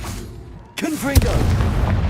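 A Confringo fire spell from Hogwarts Legacy bursts in with a sudden blast at the start, followed by a second sharp boom and a rumbling tail, with a brief vocal sound layered in.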